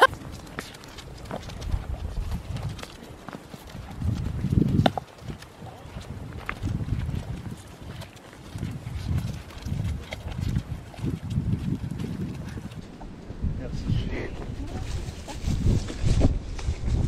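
Hooves of a draft horse and a mini pony walking together, a steady, fairly close clip-clop that continues throughout, with quiet talk here and there.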